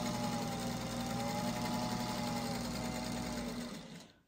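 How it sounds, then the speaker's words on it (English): A sewing machine stitches a tall pine tree quilt block, running in a loud, steady mechanical whir close by for about four seconds before it slows and stops. "I'm gonna go ahead and sew that on the other side just so that you can see how I'm doing that"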